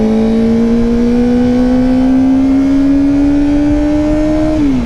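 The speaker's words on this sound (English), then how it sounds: "Man, that just sounds like a motorcycle." A Kawasaki ZX-4RR sport bike engine screams in one long, smooth rev, its high whine rising steadily for nearly five seconds before dropping sharply as the throttle closes.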